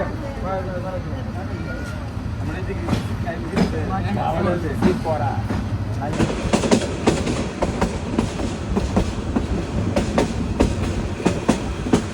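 The crowded Kishorganj Express running between Kishorganj and Dhaka rumbles steadily, wheels clicking rhythmically on the rails from inside a packed carriage, with people talking over it.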